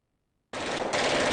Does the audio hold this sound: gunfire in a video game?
yes